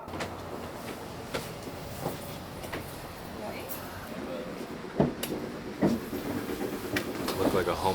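A FrontRunner passenger train rumbles along at a steady low roar, with occasional clunks and rattles from the carriage as it rides.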